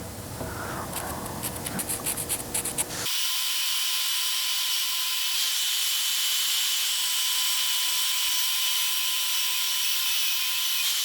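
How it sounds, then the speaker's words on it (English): An angle grinder cuts into a tree branch being shaped into a wooden mallet, a brief rough rasping burst at first, then a loud, steady high-pitched whine that runs on alone. "we're going to be busting out grinders and shaping this with an angle grinder"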